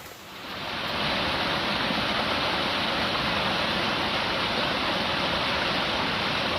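A creek flows beside a campsite in Shenandoah National Park, a steady close rush of water that swells in over the first second, then holds a constant broadband hiss with no voices.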